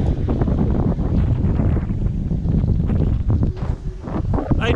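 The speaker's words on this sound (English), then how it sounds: "We've had so much wind that we have sailed the whole way." Strong wind of about 13 to 15 knots roars and buffets steadily across the microphone on a sailboat at sea off Indonesia, with low rushing noise and occasional gusts.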